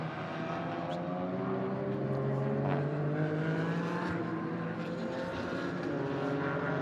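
Porsche Cup class race cars at a Nürburgring endurance race roar past at a distance, a sustained engine drone with rising and falling pitch as cars pass, no voices.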